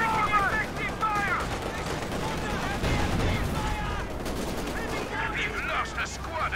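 Gunfire in the Company of Heroes 2 video game crackles in dense, overlapping bursts of rifle and machine-gun shots, with in-game soldiers shouting over the steady din of battle.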